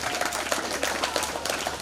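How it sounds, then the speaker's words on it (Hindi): Audience at a village gathering for a retired bank officers' association applauds, a dense steady burst of many hands clapping throughout. "तालियों से स्वागत करें एक बार।"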